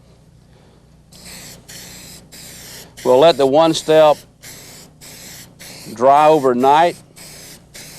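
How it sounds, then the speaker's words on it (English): Aerosol of One Step rust neutralizer sprayed onto a bare patch during car body repair: a series of short, close hissing bursts in a regular rhythm, with someone talking over part of it. "We're going to spray this area to neutralize the rust again with one step."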